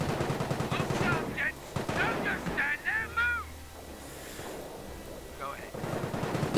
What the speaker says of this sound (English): Time to call in the mortars.